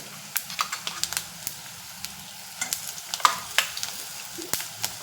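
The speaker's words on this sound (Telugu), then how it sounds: "ఈ తాలింపుతో పాటు ఇది కూడా వేగిపోతే చాలా బాగుంటుంది" Tamarind pulp fries in a hot tempering for pulihora, giving a steady sizzle broken by frequent sharp crackles and pops at an irregular pace, close and fairly clear.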